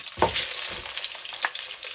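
Oil hisses and sizzles steadily in a hot pan as garlic fries, with a couple of soft stirring scrapes, close and without voices.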